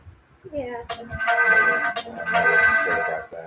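A phone ringtone plays a bright melodic tune while someone talks over it, the tones rising partway through and lasting most of the moment.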